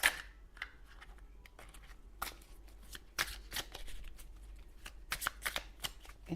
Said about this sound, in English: Let me shuffle and see.